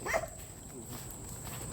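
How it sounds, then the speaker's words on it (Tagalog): Dogs bark near a tree outdoors, with one short, loud bark or yip right at the start, followed by low background noise and faint murmuring. "Maraming aso dito."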